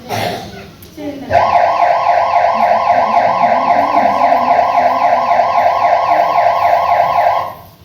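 An ambulance siren in a Telugu TV serial wails loud and close with a steady repeating two-tone cycle, starting abruptly after a brief noisy moment and continuing for several seconds.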